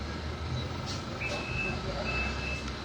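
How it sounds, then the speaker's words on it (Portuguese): A truck passes by outside, a low rumbling engine under steady street noise with a couple of faint high beeps or brake tones drifting in. "Passando aqui um caminhão aqui."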